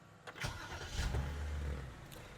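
A 2008 BMW 730Li E66 engine cranks briefly and catches, settling into a low, steady rumble at close range with no talking.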